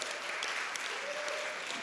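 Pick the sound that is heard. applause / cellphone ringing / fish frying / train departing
applause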